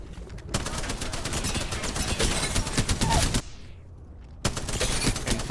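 Rapid bursts of video game gunfire crackle loudly in sustained volleys, broken by a brief pause before shooting resumes; no talking.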